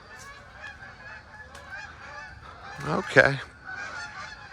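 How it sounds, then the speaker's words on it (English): Geese honk loudly in a short burst nearby, with scattered fainter honks before and after, and a voice speaks briefly over the calls. "oh, geese."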